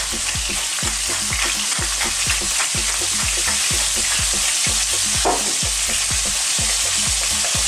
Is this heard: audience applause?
no